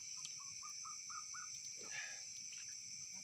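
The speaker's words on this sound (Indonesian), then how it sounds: "Suara burung apa tuh?" A bird gives a quick series of short, rising chirps, fairly faint, over a steady high insect-like hum and background noise.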